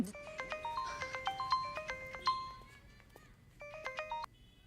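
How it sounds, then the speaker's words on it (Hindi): A mobile phone rings with an incoming call, playing a repeated electronic ringtone melody in quick bursts, pausing, then resuming briefly at moderate volume with no one talking. "वो पापा का फोन आया था"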